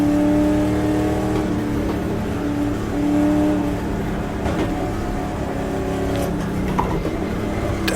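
A 1966 race car in the GTR2 racing game, running the Daytona 24 Hours, drones steadily. Its engine note shifts as it changes gear down, heard up close with no talk.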